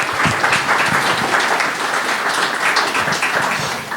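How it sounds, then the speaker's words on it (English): An audience at an AIA panel discussion in the Lutron Design Studio in Los Angeles claps for the panelists, a full steady round of applause that tapers slightly at the end. "A round of applause for our panelists."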